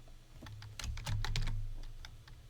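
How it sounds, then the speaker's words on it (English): Keys on a computer keyboard clatter in a short burst of irregular taps, close and fairly quiet, over a low steady hum. "Type in the topic of your meeting"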